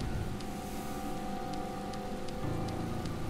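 Steady rain pours in the video game Deadly Premonition, a dense continuous hiss of drops hitting surfaces with occasional sharper drips, loud and close throughout with no voices.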